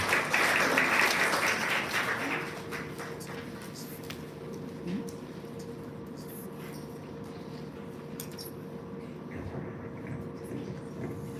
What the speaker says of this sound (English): Let's give another round of applause, please.